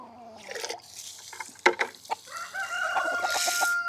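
Free-ranging chickens cluck and a rooster crows nearby, with short bursts and a rising crow over a faint trickle of water in a quiet yard.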